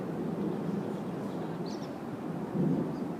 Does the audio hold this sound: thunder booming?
yes